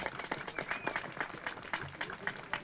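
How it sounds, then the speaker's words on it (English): Crowd applause at a New Year's Day flag raising on Prospect Hill in Somerville, honoring city leader Brandon Wilson: dense, steady clapping from a gathered audience lasting throughout, with some voices mixed in. "give a round of applause for the great leader, historic leader here in the city of Somerville, Brandon Wilson"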